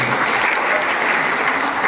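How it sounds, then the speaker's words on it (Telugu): Audience clapping at a public meeting in Kasipet, a dense sustained round of applause, loud and close with no pauses. "మీ చప్పట్లు చిన్నగా ఏం లేవు, అవి దుప్పట్లాగానే పనిచేసినాయి కదా"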